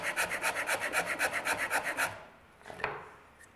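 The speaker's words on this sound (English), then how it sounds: "I can shave my tenons down to fit the mortise." A hand tool shaves a wooden tenon down to fit a mortise in a quick series of about fifteen rhythmic rasping strokes, close and crisp, then stops, leaving a faint scrape and tap.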